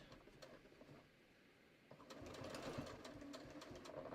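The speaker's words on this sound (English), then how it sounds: "I'm just going to stitch really slow when I go over the actual nylon teeth" A sewing machine stitching slowly across a nylon zipper on a cushion cover, faint at first, then a steady mechanical whirring with rapid needle ticks, close by.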